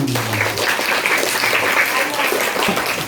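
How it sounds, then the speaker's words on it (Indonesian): Audience applause for Om Edi at a museum outreach event held at a school: a steady, dense burst of clapping from a roomful of people, close and loud for about three seconds, with a voice briefly heard at the start. "Beri sekali lagi tepuk tangan untuk Om Edi."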